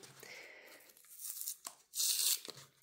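A Pokémon card tripack package is torn open, with crinkly plastic rustling, a few sharp rips and one long loud tear near the end, close by with no voices.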